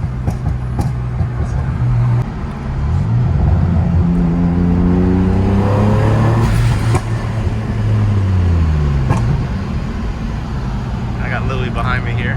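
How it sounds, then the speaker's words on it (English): A 3000GT VR4 on a test drive with fresh transmission fluid and a new axle, the engine revving up through rising and falling pitch sweeps across gear changes, loud and close with cabin rumble, and people talk over it. "Test driving it with the new transmission fluid on and the new axle."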